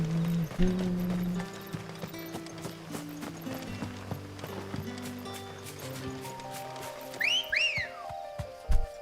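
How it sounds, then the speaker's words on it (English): Over rhythmic horse hoof clip-clop and game music, a short two-note rising whistle chirps near the end in a video game, brief and fairly clear. "That was a different whistle."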